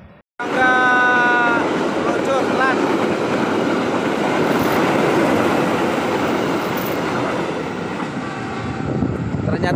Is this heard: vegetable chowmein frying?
no